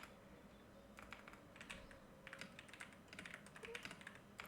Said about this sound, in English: you're just going to type in the text you want to type in